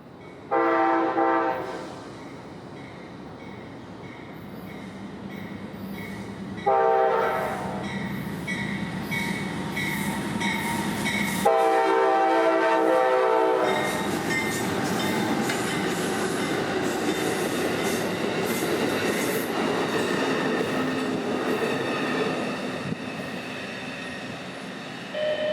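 A train rolls past on double track in a rail corridor lined with citrus warehouses and freezers in Central Florida, a loud, steady rumble and clatter of cars with wheel squeal, lasting throughout with no talk.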